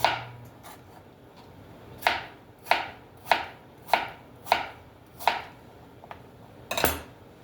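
A knife slices an apple into even pieces on a cutting board, about eight crisp, evenly spaced chops landing close and clear with quiet gaps between.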